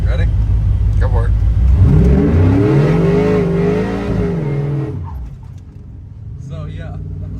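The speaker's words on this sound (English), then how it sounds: "We'll get on the gas here again. It spins a lot." A 1988 Chevrolet C1500 OBS pickup with an LS3 engine and 6L90 transmission accelerates hard with tires spinning, its loud engine climbing in pitch over several seconds, then easing off; someone talks near the start and end.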